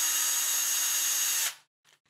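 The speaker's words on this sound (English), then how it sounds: "Now we're going to put our two screws in to hold this contraption together." A power drill drives screws into a FastEddy DR10 bearing assembly, a steady loud high-pitched whir for about a second and a half that stops abruptly, followed by a brief faint clatter.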